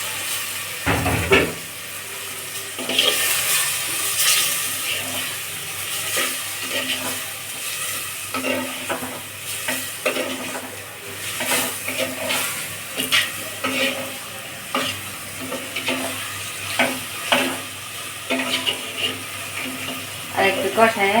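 Water goes into a pan of boal fish curry cooking with chili, with stirring and sizzling throughout, scattered utensil clinks, and faint background sounds over about twenty seconds.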